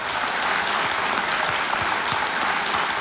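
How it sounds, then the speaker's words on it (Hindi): Thick, even applause from a television game show studio audience, loud and continuous throughout with no pauses. "तालियां बजती रहे इनके लिए।"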